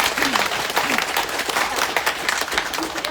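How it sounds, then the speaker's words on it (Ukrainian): Dense clapping from a crowd, steady and fairly loud throughout, with a faint voice surfacing briefly underneath. "Поаплодуйте мамі, тій дитині і нашим результатам."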